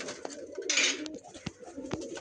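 Tiplar pigeons with tagged legs coo softly and repeatedly in a breeding loft, with a brief rustle or flap of wings in the middle.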